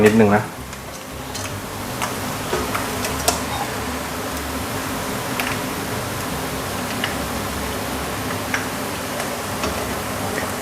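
Soft-fleshed fish deep-frying in hot oil for a Thai chu chee curry, giving a continuous bubbling sizzle with scattered crackles and pops throughout, with someone talking over it.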